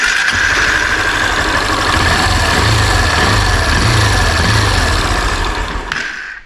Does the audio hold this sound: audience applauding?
no